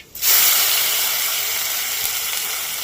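Chopped tomato dropped into hot oil for a Hyderabadi-style eggplant dish, bursting into a sudden loud hiss that settles into a steady, close, intense sizzle.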